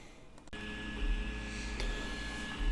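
A Prusa MK2S 3D printer running a print, giving a steady low motor hum with a faint tonal whine and a light click, close by and moderately quiet.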